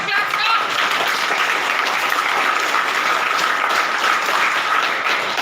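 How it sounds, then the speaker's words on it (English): Sustained, dense applause from an audience at a National Science Day 2022 school event, loud and continuous throughout, with voices mixed into the clapping. "let us have a huge clap for her"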